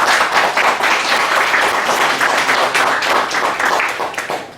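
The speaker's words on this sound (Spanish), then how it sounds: "a cargo del maestro Baltasar Pabamba Rosas, a quien les pido le brindemos un fuerte aplauso." A conference audience breaks into dense, sustained applause, many hands clapping continuously at close range with no voices over it.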